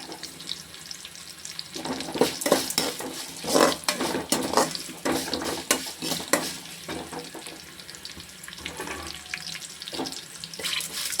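Urad dal and cashews fry in hot oil for coconut rice, a steady sizzle and crackle broken by scraping stirs and clinks of the spoon against the pan, with no voices.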